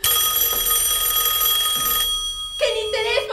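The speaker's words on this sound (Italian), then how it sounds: "il telefono!" A telephone bell rings on a theatre stage during an Italian performance of the comedy Rumors, sounding continuously and loudly while actors talk over it, then stopping as a voice calls out near the end.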